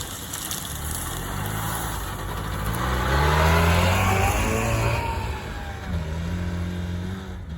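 A Trabant car used for field and forest driving runs its engine, climbing in revs to a louder peak and then easing off as the pitch rises and falls, with no talking.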